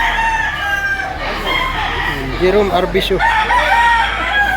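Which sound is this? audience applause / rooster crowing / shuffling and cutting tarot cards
rooster crowing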